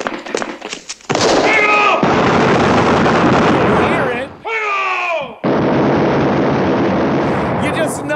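Movie gunfire as characters are shot up by the Bolivian army, a dense, loud and continuous barrage of rapid shots in long bursts with a brief break, mixed with voices.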